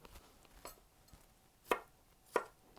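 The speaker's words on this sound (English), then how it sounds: "we will cut them into roughly 1/4 inch pieces" A boning knife chops vegetables into quarter-inch pieces on a cutting board with a few soft taps, then two sharp, distinct strikes, quiet and close.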